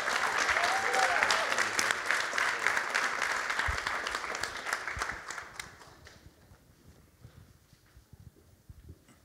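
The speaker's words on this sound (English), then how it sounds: "let's give a round of applause as he joins us on stage" Audience applause greets a speaker joining the stage at a panel event, loud dense clapping for about five seconds that then thins out into scattered claps and quiet.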